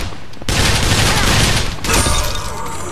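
Gunfire in the video game BioShock Infinite: Burial at Sea, a loud sustained automatic burst that starts abruptly and runs for a couple of seconds with a brief pause and renewed firing.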